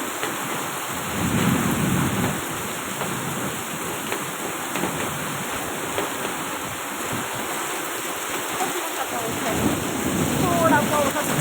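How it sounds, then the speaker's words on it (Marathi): Thunder rumbles low and continuous beneath steady heavy rain, with a loud broadband wash throughout and a voice talking briefly near the end. "गरजायला लागलंय, खूपच गरजत आहे इकडं"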